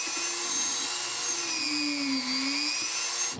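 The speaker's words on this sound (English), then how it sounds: "I'm going to take my Dremel tool and I'm going to drill a hole right into a golf ball" A high-pitched Dremel rotary tool whines steadily up close, its pitch dipping slightly as it drills into a golf ball, then cutting off at the end.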